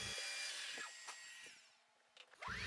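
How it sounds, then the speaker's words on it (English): A large center drill bores into metal on a machine shop machine, starting a hole for an arrow rest fork on a compound bow; a steady, close grinding whir runs throughout with a faint rising squeal near the end. "I'm using a large center drill to drill a hole for the beginning of the fork"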